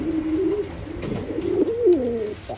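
Pakistani high-flying pigeons give repeated soft, throaty coos, one bird's call rising and wavering near the end, close by over a steady low background hum.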